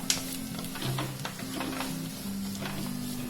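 Carrots sizzle in a hot pan for shepherd's pie, a steady close frying hiss with light stirring scrapes and clinks, with no talk.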